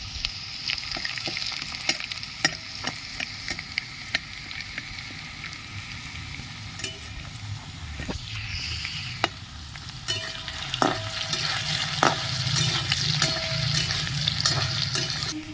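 Dried red chilli and whole garam masala frying in hot oil in a pan, a steady crackling sizzle punctuated by sharp spoon clinks and stirring scrapes, close up, growing busier toward the end, with no talking.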